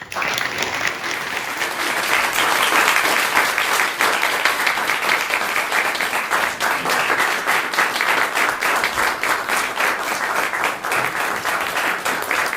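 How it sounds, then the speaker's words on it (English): Applause for Francisco fills the room, a dense, sustained round of clapping from a group that stays loud and even from start to finish, with no voices over it. "Let's give Francisco a big round of applause."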